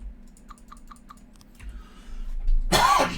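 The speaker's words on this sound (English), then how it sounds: "I'm coughing my lungs out of me body" A single sharp, close cough bursts out near the end, after a stretch of quiet computer keyboard clicks and typing.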